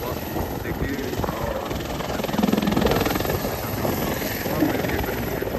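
An Indian Army rescue helicopter hovers over the Girna river at Malegaon in strong crosswind, its rotor a loud, steady, pulsing roar with gusty wind noise on the microphone and someone talking over it.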